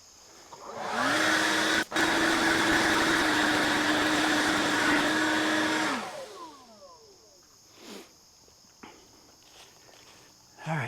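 Greenworks X-Range 60-volt brushless backpack leaf blower roaring steadily at high power for about five seconds, then winding down to silence with a few faint knocks and steps afterward.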